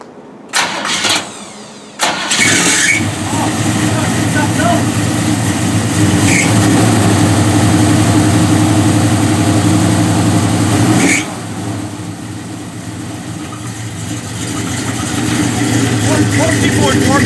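A car with a Chevy engine cranks and fires up, then settles into a loud, steady rumbling idle before a burnout, with a brief revving dip near the end and people talking under the engine.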